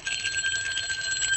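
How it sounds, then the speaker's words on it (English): A front doorbell rings as a radio drama sound effect, a continuous bright metallic trill lasting over a second, fairly close and alone. "I think the front doorbell just rang"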